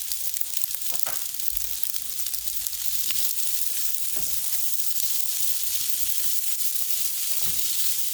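Leftover canned peas and carrots sizzle steadily in a hot pan of chicken fried rice, a constant crackling hiss with faint stirring scrapes and no voices.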